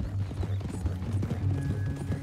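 Horse hooves in Red Dead Redemption 2, a steady walking clip-clop of several close, moderately loud hoof strikes with faint tack rattle, and no talk.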